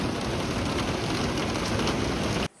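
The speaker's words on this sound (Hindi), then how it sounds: "बाहर कंटिन्यू बारिश है, कंटिन्यू मतलब रुकने का नाम नहीं ले रही है, इतनी बारिश है।" Heavy rain falls in a dense, unbroken roar that stops abruptly at the very end.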